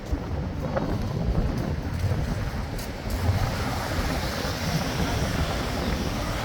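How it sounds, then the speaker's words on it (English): Strong outdoor wind buffets a microphone near Horse Guards in London, a continuous low rumbling roar with uneven gusty surges that stays heavy from start to finish. "sorry guys if the wind is really sort of being picked up by the microphone"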